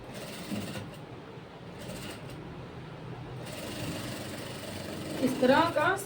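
A sewing machine stitching the sleeve seam of a blouse runs steadily at close range, with a voice talking over it.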